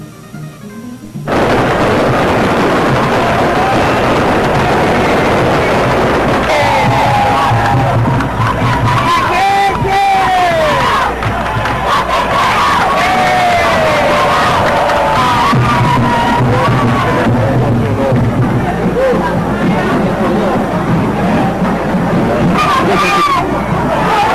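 Loyal supporters of Andorinhas Futebol Clube roar in a dense crowd at a football match, a steady wash of cheering and babble with occasional whoops rising above it throughout.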